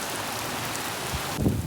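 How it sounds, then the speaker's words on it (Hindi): Heavy rain pours steadily over a village, a dense, loud hiss with a brief thump near the end. "इतनी ज़्यादा बारिश हुई है"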